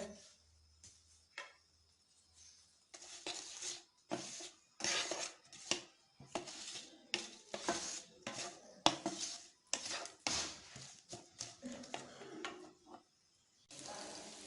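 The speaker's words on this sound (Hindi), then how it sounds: "अभी 1 अदद बारीक कटा हुआ प्याज ऐड कर देंगे इसके अंदर और मिक्स कर लेंगे।" Finely chopped onion goes into a pan for a dahi tadka and is stirred, a quick run of sharp metal spoon clinks and scrapes against the pan in close, irregular bursts with short pauses.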